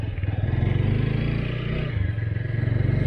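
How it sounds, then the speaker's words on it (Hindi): A TVS Apache RTR 200 motorcycle rides in sports mode, its engine a loud, steady pulsing thrum close to the microphone, with a brief dip in the rhythm as if easing off before pulling again. "स्पोर्ट्स मोड में काफ़ी अच्छा बाइक रिस्पॉन्स कर रही है।"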